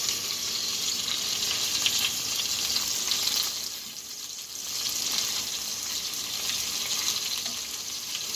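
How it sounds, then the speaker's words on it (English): Small meatballs for spaghetti fry in a pan, giving a dense steady sizzle that dips briefly midway and then resumes at the same level. "some of these meatballs are starting to brown, so we're going to start turning them."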